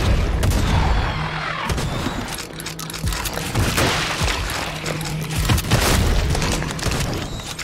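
Loud, rapid gunfire and booming blasts from a gun in the video game Project Warlock 2, firing in repeated bursts throughout with heavy low thuds and no talking.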